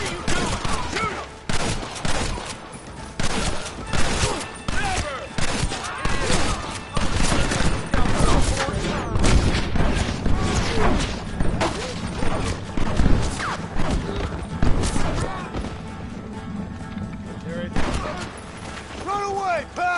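Dense gunfire and explosions roar through a Red Dead Redemption firefight, with rapid overlapping shots and heavy blasts forming a loud, continuous barrage while voices shout over the battle.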